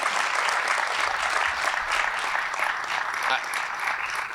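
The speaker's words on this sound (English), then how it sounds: "Give yourselves all a round of applause." An audience at a college education center opening breaks into sustained applause, a dense wash of many hands clapping at steady volume with voices mingled in.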